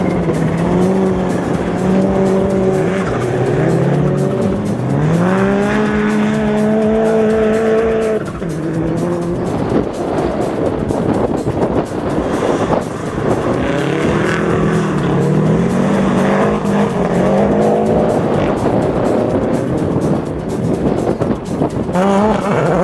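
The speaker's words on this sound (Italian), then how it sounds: "Mentre fra i kart cross, gara da incorniciare per Simone Firenze, autore del miglior tempo in tutte le manche." Kart cross cars race on an ice track at Pragelato, their engines screaming loud and steady for the whole stretch, revs climbing and dropping as they pass, with occasional tire squeal.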